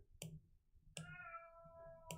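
A cat meowing near a streamer's desk during a late-night gaming stream, two or three short meows spaced apart, the middle one longer and drawn out, faint but clear, with no speech over them.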